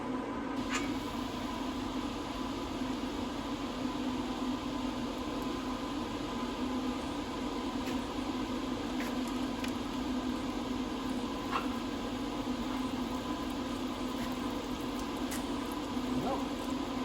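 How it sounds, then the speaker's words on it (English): A steady, broadband mechanical hum like a heater running fills the whole clip, constant and fairly loud, with a few faint clicks over it. "Heater's still running in the background, so again, I apologize for the noise"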